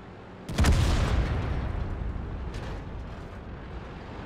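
A tank cannon fires in World of Tanks with a single deep, booming shot, followed by a long rumbling decay and a fainter thud a couple of seconds later.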